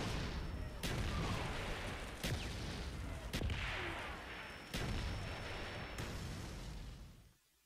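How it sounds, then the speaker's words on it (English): A mortar strike in a video game lands on a SAM turret as several sharp, heavy booms at irregular intervals over a dense roaring bed of battle noise, which cuts off abruptly at the end. "And here I call in all three parts of the mortar strike on top of the SAM turret."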